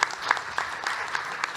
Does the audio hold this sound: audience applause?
yes